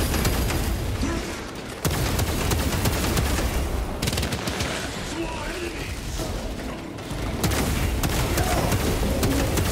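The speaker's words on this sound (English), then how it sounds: "The Gatling gun, guys." A Gatling gun fires in Warhammer 40,000: Space Marine 2, a dense, continuous mechanical rattle that runs nearly unbroken for several seconds with short pauses, loud and close amid battle noise.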